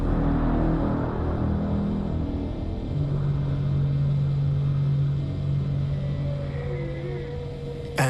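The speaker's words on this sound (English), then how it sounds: "then there was what we now understand to be the priming of the sonar weapon" Underwater recording of a sonar weapon priming: a deep continuous rumble with a sustained steady tone rising out of it, then faint whale-like whistles, ending in a sudden sharp burst.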